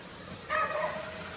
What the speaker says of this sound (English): Oh yeah, his dog's going crazy.